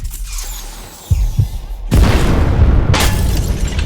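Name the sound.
explosion sound effect in an audio drama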